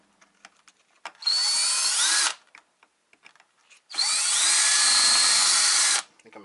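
A power drill bores out a rivet in a Lutron Skylark dimmer and fan control switch, with two loud, close whining bursts of about a second and two seconds, separated by quiet handling clicks.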